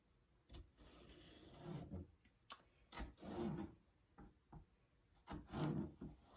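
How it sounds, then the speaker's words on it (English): A knife slices food on a wooden cutting board for a couple of salad ingredients, giving a quiet run of separate rasping cuts and light taps close by, spread unevenly with short pauses between them. "And go ahead and make some slices."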